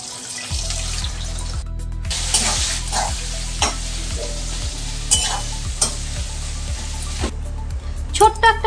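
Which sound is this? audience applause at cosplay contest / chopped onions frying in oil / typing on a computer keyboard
chopped onions frying in oil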